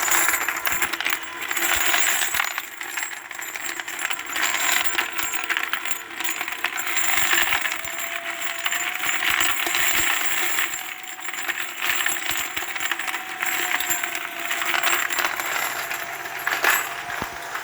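A Hornady brass case feeder runs on a 12V DC variable speed drive, giving a steady metallic rattling and clinking of cartridge cases churning in the bowl, continuous and moderately loud with no talk.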